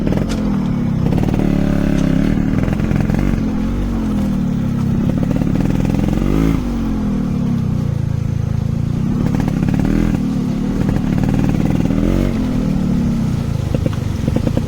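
Yamaha RX100 motorcycle riding along the Charmadi Ghat mountain road, a steady close engine drone with rising and falling revs through bends, wind rush and occasional rattling clatter, no talking.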